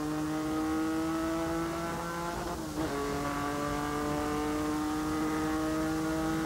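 A Porsche race car engine roars at full throttle in fifth gear, a loud steady high-revving drone with a brief dip partway through, close up.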